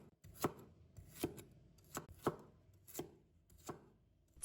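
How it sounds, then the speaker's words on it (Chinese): A knife chops sand ginger into small pieces on a board, six sharp, evenly spaced strikes sounding close and clear with quiet gaps between them. "再准备沙姜，我们给它切成小粒"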